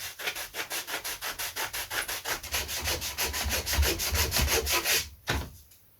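Coarse sandpaper is rubbed back and forth over a wooden part of a vintage Lunak aerobatic glider. The close, rhythmic strokes run about five per second, then stop abruptly with one last scrape.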